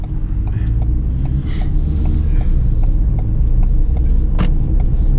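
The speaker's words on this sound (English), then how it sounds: "So really just a nice summer drive in this 2018 Ford Fiesta." A 2018 Ford Fiesta driving on a road in summer, its steady low engine and tyre rumble filling the cabin at a constant level, with no talking.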